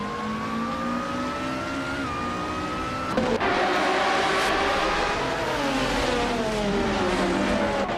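Lamborghini Murcielago GT race car in a racing game, its engine droning loudly and steadily, with the pitch climbing through gears and a sharp shift just past three seconds.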